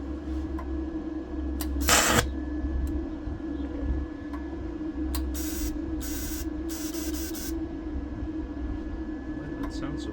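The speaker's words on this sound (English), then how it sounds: "Turn the gas on" Shielding gas from a Vevor TIG210P welder, used outdoors, comes out in short, sharp hissing bursts over a low, steady background hum.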